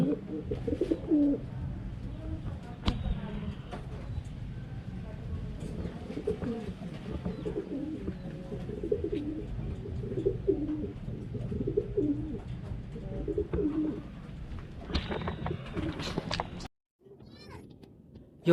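Racing pigeons in a loft give soft, throaty coos close by, repeated in loose overlapping bursts with a few sharper clicks and flutters, over quiet background voices.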